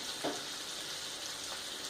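Onions cooking in a pan on very low heat for a burger, giving a faint, steady soft sizzle with no talking.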